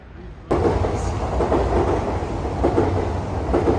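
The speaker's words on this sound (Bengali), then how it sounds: "ট্রেন যাচ্ছে অ্যামস্টারডামে" A train bound for Amsterdam, Netherlands, rumbles past close by with a steady, rattling roar that kicks in suddenly and continues loudly without talking.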